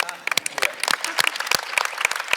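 Sparse applause from a film screening audience, a scattering of distinct, close hand claps in an uneven rhythm rather than a full ovation.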